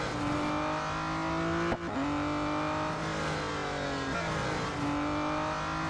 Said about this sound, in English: I love the engine noise of this car as well.